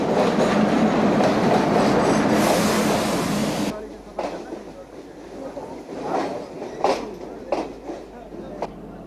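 A small train runs on rails with a loud, steady rumble and rattle for the first few seconds, then drops to a quieter background under scattered voices.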